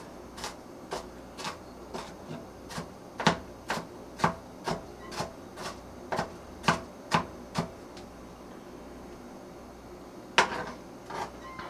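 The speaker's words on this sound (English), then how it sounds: "Now we're going to stop for a minute chopping that." A knife chops food for potato salad on a board with steady, close, crisp strokes of about two per second, then a pause and a few final chops, with no talking.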